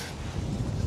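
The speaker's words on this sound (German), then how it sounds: "Es ist auch sehr windig" Strong gusting wind buffets a radio microphone fitted with a furry windscreen high in the Alps at about 2300 m, a continuous low rumbling roar filling the short moment.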